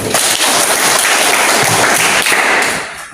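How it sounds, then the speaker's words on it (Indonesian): Classroom of students clapping their hands together, loud close rapid applause with sharp individual claps, steady throughout before tapering at the end. "Tepuk tangan, Bro."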